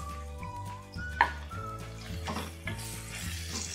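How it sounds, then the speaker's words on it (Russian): Liver frying in oil with vegetables in a pan, a steady close sizzle with sharp crackles and the scrape and clink of stirring, no talking. "Все вместе обжариваем."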